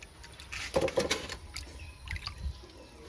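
Freshly cut fish rinsed by hand in a pot of water, with a few close splashes and sloshes followed by softer trickling and dripping.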